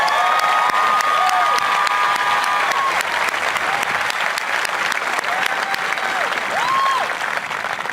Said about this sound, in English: You hear that applause.